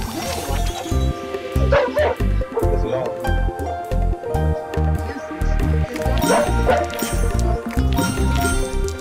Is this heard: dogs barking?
yes